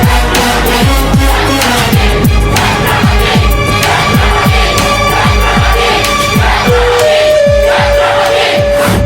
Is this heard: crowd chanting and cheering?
yes